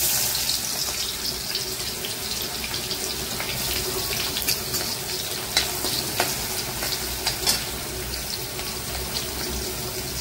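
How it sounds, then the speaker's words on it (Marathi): Onion frying in hot oil as tempering for sev bhaji, a dense continuous sizzle close up, with a few sharp ticks and clinks from stirring scattered through it, and no one speaking. "आता मी टाकलेला आहे कांदा। कांदा जरा लालसर होईपर्यंत भाजून घ्यायचा।"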